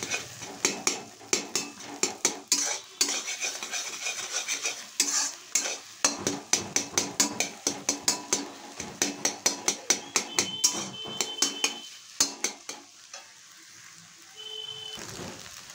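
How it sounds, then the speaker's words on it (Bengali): A spatula scrapes and taps rhythmically against a frying pan as beaten egg is stirred and fried for egg fried rice. Dozens of sharp, close clinks ride over a soft sizzle, then slow down near the end. "এবার একটা খুন্তি দিয়ে এটাকে এইভাবে নাড়িয়ে চাড়িয়ে ভুনা মতো তৈরি করে নিতে হবে।"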